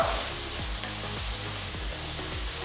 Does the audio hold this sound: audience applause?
no